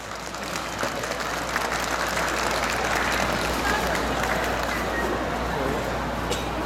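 Applause welcoming the Qiuxia dance troupe at a Lantern Festival street parade outside a temple, a sustained wash of crowd clapping with background chatter and murmuring voices.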